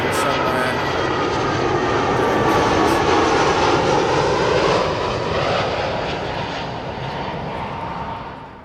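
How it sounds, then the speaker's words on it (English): Finnair Airbus A320 jet arriving at London Heathrow from Barcelona, a steady loud engine roar passing near that slowly fades toward the end, no voices. "A320. According to flight radar, it's coming in from Barcelona."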